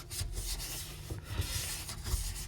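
A rag wipes spilled oil around the work area during an oil change on a 2019 Subaru Outback, producing faint, soft rubbing strokes that repeat unevenly with no talking.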